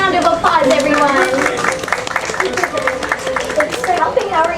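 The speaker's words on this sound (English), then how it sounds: "Let's give him a big round of applause, everyone." A small gathering of adults and children claps for a young boy helper at a storytime event, a loose burst of hand claps overlapping with lively talk, children's voices and bright chatter throughout.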